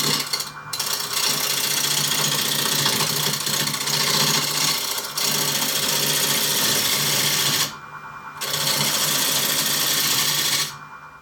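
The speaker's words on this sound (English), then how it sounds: "I'm going to use a roughing gouge just to take it down to make sure it's perfectly" A roughing gouge cuts a spinning wooden lamp base mounted between centers on a wood lathe, making a loud, steady whirring scrape that drops out briefly twice before resuming.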